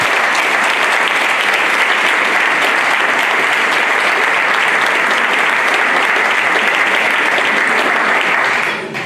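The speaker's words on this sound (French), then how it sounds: "Christian Estrosi, que je vous demande d'applaudir." Loud, sustained applause from a large crowd at a New Year's greetings ceremony at the Isola 2000 ski resort fills the whole stretch, steady and dense, tapering slightly at the very end.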